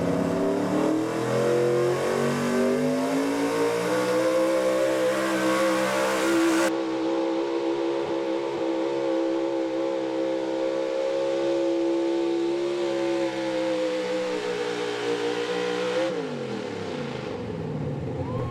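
A pulling truck's engine roars and revs steadily for a long stretch at a truck and tractor pull, pitch climbing and holding, then drops off sharply near the end.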